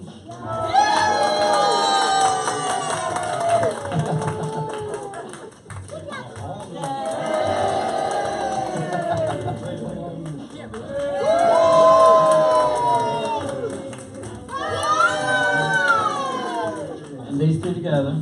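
Children and a crowd cheer and shout for a costume contest, loud bursts of whooping and high-pitched yells rising and falling in several waves, with an adult voice talking between them.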